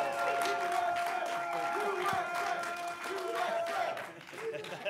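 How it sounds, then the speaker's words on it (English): Fans in a soccer stadium cheer for the United States during a USA vs Mexico World Cup warm-up match, a dense continuous roar of crowd noise and shouting, loud and close throughout. "I would love for those rooting for the United States to cheer up and do some noise for the camera"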